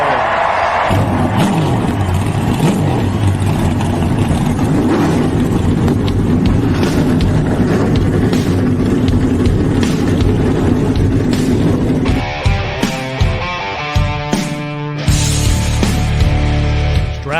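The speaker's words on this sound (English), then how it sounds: "Driver, start your engine!" Loud NASCAR race car engines roar continuously in a dense mix with crowd noise, shifting near the end into steadier droning tones with sharp bursts.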